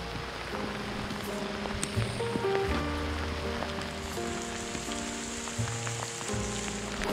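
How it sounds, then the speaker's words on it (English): A creek swollen by monsoon rain rushes along in a steady, broad wash of flowing water, with sustained tonal sounds running over it and no talking. "look at this creek here. It is just flowing because of all the water."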